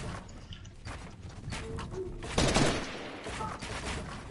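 Bursts of gunfire in a building-and-shooting video game, with rapid cracking volleys that swell to a louder cluster midway, faint against a background hum.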